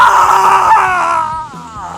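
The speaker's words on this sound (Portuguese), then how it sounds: "começam a escutar os gritos da mafiosa se incendiando" A mafia woman screams while burning, a loud, strained cry that wavers and dips in pitch, set against a noisy, crackling background.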